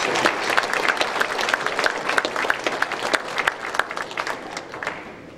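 An audience at a fraternal reunion applauds membership award recipients, steady clapping from many hands in a hall, moderately loud and continuous, tapering slightly at the end.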